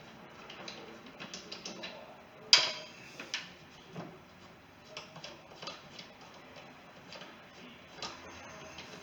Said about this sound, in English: Just need a ratchet, 3/8 ratchet.